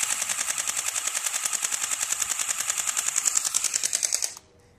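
An airsoft gun fires on full auto in a long, rapid, evenly spaced burst of sharp clattering shots, loud and close, lasting about four seconds before cutting off abruptly.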